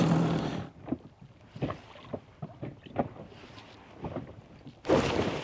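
Small boat motoring across the sea on a fishing trip for perch, with a steady engine drone, water slapping against the hull and wind noise running throughout, close and moderately loud.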